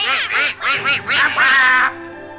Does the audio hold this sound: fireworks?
no